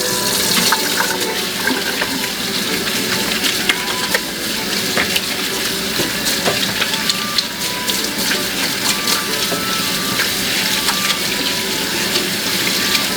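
Running tap water splashes over soapy hands at a kitchen sink, a continuous loud hiss with small clicks and knocks scattered throughout.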